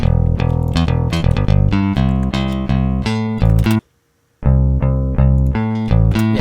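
Rickenbacker bass with its high frequencies boosted plays a loud, bright, steady riff of repeated notes, stopping briefly in the middle before resuming, with no talking.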